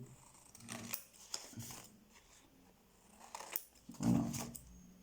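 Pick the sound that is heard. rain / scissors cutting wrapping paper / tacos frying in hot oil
scissors cutting wrapping paper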